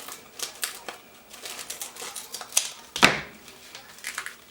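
Brown gravy mix packet being cut open in a kitchen while making vegetarian beef stew on a wood stove, a series of quiet crinkly clicks and snips leading to one sharper cut near the end, close and alone with no talk.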